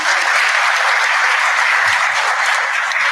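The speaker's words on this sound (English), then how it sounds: "Let's give them a round of applause." An audience at a diaspora conference in Miami claps for consulate members, a thick, even burst of applause from many people that holds steady for a few seconds without speech.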